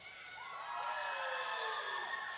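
A crowd cheers at a girls high school volleyball game in a gym, with a steady swell of voices and shouts that rises partway through, heard from a moderate distance.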